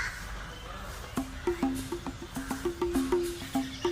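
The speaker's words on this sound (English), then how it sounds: "There's a loud bird in the background." Loud bird cawing in repeated, evenly spaced harsh calls close to the microphone in a voice memo recording, over faint background ambience.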